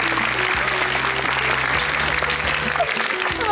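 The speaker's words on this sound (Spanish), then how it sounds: "con un fuerte aplauso del público" Loud, steady applause from a comedy show audience welcoming a contestant in traditional costume, with a low musical hum running beneath the clapping throughout.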